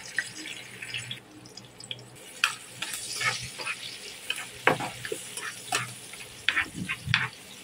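Chopped onion and green chili fry in leftover hilsa fish oil, a low steady sizzle broken by irregular sharp crackles and stirring clinks throughout, close and moderately loud, no speech.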